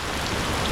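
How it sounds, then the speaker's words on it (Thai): Heavy rain pours down on the Phuket coast during a storm, a dense steady hiss with no gaps, close and loud throughout with no voices. "ฝนตก แต่ฝนตกหนักเกินอยู่ไม่ไหว"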